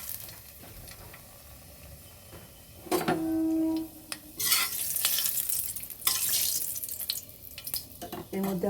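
Cardamom, cinnamon, bay leaves and dried red chillies hit hot oil in a pan, a steady close sizzle broken by sharp bursts, with clinks of a utensil against the pan.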